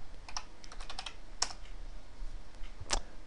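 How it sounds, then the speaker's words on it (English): A javac command is typed on a computer keyboard, with a quick burst of light key clicks followed by two sharper isolated keystrokes, close and fairly quiet in a still room. "So we're going to type Java C"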